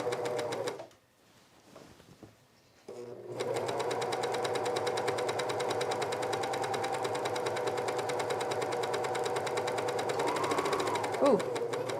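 A sewing machine stitches a dress in a steady, continuous run, close and fairly loud, after a short quiet pause near the start, with a brief change in tone toward the end as it passes over thicker fabric.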